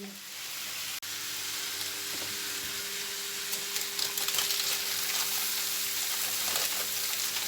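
Adana kebab sizzles steadily in a toaster with a loud even hiss of frying fat, a low electrical hum beneath and small crackles rising toward the end.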